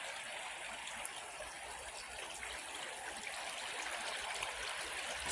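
Bear River running at about 136 to 138 cfs in July, heard from a house nearby: a steady, broad rushing of flowing water that holds even and continuous throughout, with no voices.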